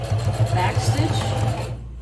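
A sewing machine back stitches fabric with a close, pulsing low motor drone in quick regular beats, while a voice talks over it before the whir fades out.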